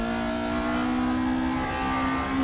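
A racing car engine in RaceRoom Racing Experience holds a high, steady rev, giving a loud, continuous buzzing drone with strong tonal harmonics and no pause or voice.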